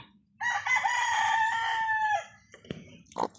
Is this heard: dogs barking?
no